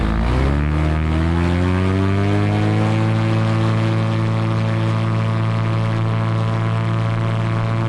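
A GT500 propeller aircraft engine drones loud and steady while climbing out at 5,500 RPM, its harmonic tone settling after a brief rise and holding constant throughout.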